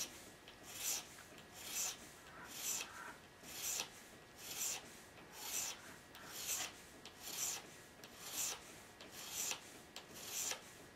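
A hand file laid flat and drawn across a blade edge to raise a burr, giving a soft, evenly spaced rasping stroke about every second, close up and quiet, with no talk.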